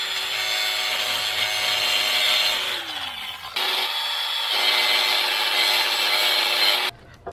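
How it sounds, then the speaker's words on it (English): A nail scratches paint off metal where rebar will attach to a DIY sidewalk snow blade, a loud, harsh, sustained grinding scrape up close that cuts out briefly midway before resuming and stopping abruptly. "I'm actually using a nail to scratch the paint of where I want to put the rebar at."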